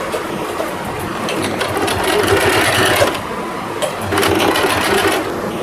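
A sewing machine runs in steady bursts while stitching a lehenga for a deity's outfit, its rapid mechanical whir rising and falling as the fabric is fed, close and loud.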